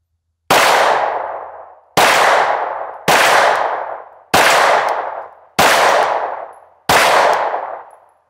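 Six sharp, loud pistol shots from an IWI Masada firing Corbon 115 grain +P jacketed hollow points at steel targets, each report ringing out with a decaying metallic clang, spaced about a second apart with no talk.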